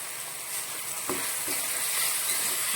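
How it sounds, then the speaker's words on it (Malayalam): Tomato rasam masala sautéing in a pan as turmeric powder goes in, giving a steady close sizzle with a couple of soft stirring knocks and no voices. "ഇനി ഇതിലേക്ക് നമുക്ക് മഞ്ഞൾപ്പൊടി ഇട്ട് കൊടുക്കാം"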